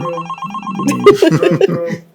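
A phone ringtone plays a repeating electronic ring pattern, close and loud, with a rising melodic flourish of tones before it stops.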